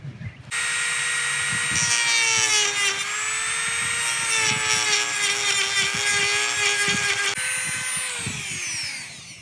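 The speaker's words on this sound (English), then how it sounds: "I'm going to try a little cutting wheel on my Dremel and just having tape on the back side" A Dremel rotary tool with a small cutting wheel slices through taped wind fairing material, a loud, steady, high whine that starts abruptly and holds, pitch dipping slightly as the wheel bites, close up with no talking.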